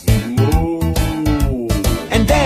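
A person imitates a cow with a long, drawn-out, arching moo, set over a bouncy children's song with steady drum beats and backing music.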